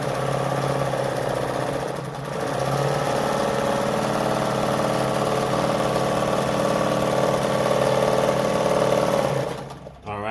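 A Jones model 556 sewing machine runs steadily through a stitch, a continuous motor hum with a faint rhythmic whir lasting nearly the whole stretch before stopping abruptly near the end.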